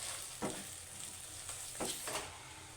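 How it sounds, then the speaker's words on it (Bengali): Spiced tomato masala with salt, turmeric and chilli powder sizzles steadily in hot oil during the cooking of chital fish muitha, with a few soft stirring scrapes breaking through the continuous frying hiss. "আমি মশলাটা ভালো করে কষিয়ে নিয়েছি। টমেটোগুলো গলে গেছে আর মশলার তেল ছেড়ে দিয়েছে।"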